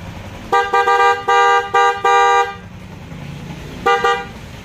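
A car horn honks in several short bursts in quick succession, loud and close, then one more double honk after a pause.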